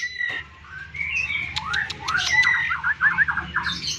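A young female dove, about 11 days old, gives squeaky, high-pitched calls repeating in quick bursts, thinner and sharper than a deeper coo, with a few short chirps mixed in. The calls sound fairly close.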